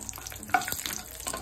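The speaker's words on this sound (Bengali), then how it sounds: "এটা মিশিয়ে নিয়ে আমি কাজু বাদামগুলো একটু ভেজে নেব।" Cashew nuts fry in a little ghee in a pan, giving a close, steady sizzle with occasional scraping stirs and small crackles, and no voices over it.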